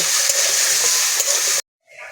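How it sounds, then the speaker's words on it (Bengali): Vegetables fry loudly in oil with a little salt as they are stirred in a pan, giving a dense, close sizzle that cuts off abruptly near the end. "সামান্য নুন দিয়ে দিচ্ছি নেড়ে ছেড়ে ভালো করে ভেজে নেব"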